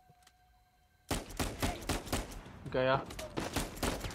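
Gunfire in the video game Uncharted 4: dense, loud bursts of shots after a quiet start, with someone speaking over the firing.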